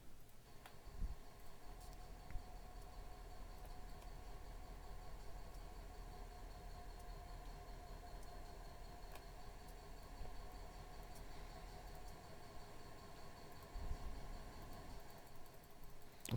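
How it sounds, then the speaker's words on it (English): Steady loud rumble and drone of a Metrolink train locomotive engine in Train Simulator 2016, continuous and close, with a few heavier thumps along the way. "Let's go get away from the engine because it is super loud"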